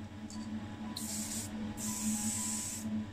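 Black primer is sprayed onto a 1964 Chevrolet Chevelle station wagon under restoration, two close, steady hissing bursts from a spray gun over a low background hum.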